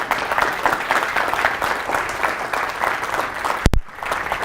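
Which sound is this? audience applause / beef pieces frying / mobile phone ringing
audience applause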